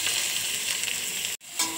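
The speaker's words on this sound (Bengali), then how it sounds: "সব কিছু একসঙ্গে ভালোভাবে ভেজে নেব।" Chopped onion, garlic and green chili sizzle in ghee in a kadai, a steady close frying hiss with one brief break.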